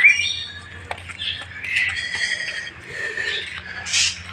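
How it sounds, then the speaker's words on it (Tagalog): Birds squawk and chirp repeatedly at a moderate distance over a steady low background hum. "maririnig mo dito mga ibon na lumilipad"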